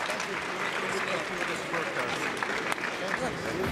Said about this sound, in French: on a entendu les applaudissements du public qui a apprécié le travail constant